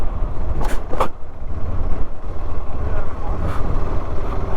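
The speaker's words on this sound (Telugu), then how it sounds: "ఎవరో కొంతమంది బైకర్స్ 2 బైక్స్ వచ్చాయి" Two motorbikes ridden by other bikers pass close by on a road through mountain terrain. Loud, rough engine noise swells and fades over a few seconds.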